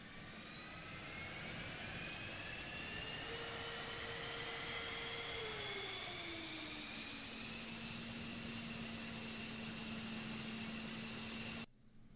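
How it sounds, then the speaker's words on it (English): An F-15E Strike Eagle jet fuel starter in DCS World whines as it spools up, high tones steadily rising in pitch over a constant roar, then cutting off abruptly at the end. "we can hear the jet fuel starter get cranked up"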